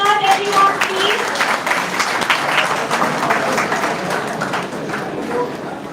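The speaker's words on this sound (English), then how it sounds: "Please give a huge round of applause" A crowd at a national moot court competition applauds a team coming forward, dense sustained clapping that fills the room for several seconds without a break.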